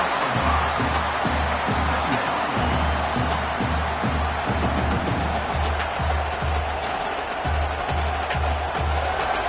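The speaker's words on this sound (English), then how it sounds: "this crowd is fired up. Listen to this noise here." A big stadium crowd in the NCAA 26 college football video game roars continuously, a dense wall of noise with a rhythmic low chanting pulse underneath.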